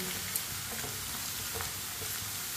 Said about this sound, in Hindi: आलू को ना इसी तरह चम्मच चलाते हुए पकाना है